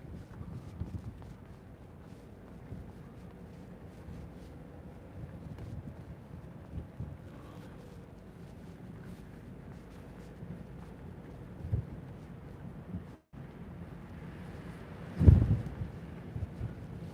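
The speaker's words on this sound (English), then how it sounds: "It got really windy right there, and it just stopped." Wind gusting and buffeting against the microphone, a low rumbling roar throughout with a sharper thump near the end.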